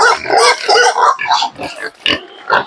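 Fattening pigs grunt and oink in quick, close bursts at feeding time, loud, with short pauses between the grunts.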